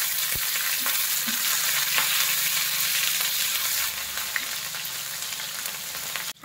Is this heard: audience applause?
no